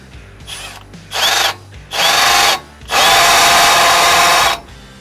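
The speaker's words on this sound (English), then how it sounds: "So what I'm gonna do is just gonna tap it out with a drill." Power drill tapping a small dimple into metal during a Toyota Tacoma Brembo brake upgrade: three loud whirring bursts, each longer than the last, with short pauses between them.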